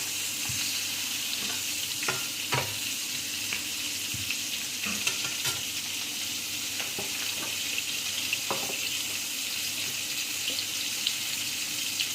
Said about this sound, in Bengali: এবার একটু ভাজা হতে থাক।